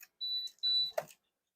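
An aquarium heater gives two short high-pitched electronic beeps in quick succession, followed by a soft click or thump, close and clear in an otherwise quiet room.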